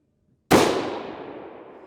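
A single sharp rifle shot cracks out at a long-range shooting stage, with a sudden loud onset and a long, fading echo rolling across open terrain.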